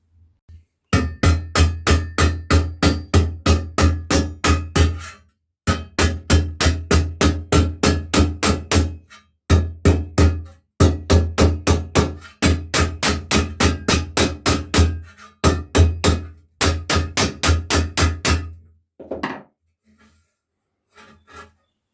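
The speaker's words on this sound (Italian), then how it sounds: "Adesso andrò a ribattere la punta che è piegata." A metal hammer strikes the bent tip of a vintage tool to straighten it, delivering rapid bursts of sharp, ringing blows in repeated runs, loud and close, with short pauses between series and a few scattered taps at the end.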